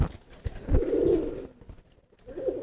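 Pigeons coo in low, throaty bursts nearby, with one long warbling coo followed by a pause and then another coo starting, over faint shuffling.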